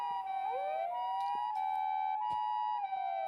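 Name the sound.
police sirens in a video game, Chaos;Child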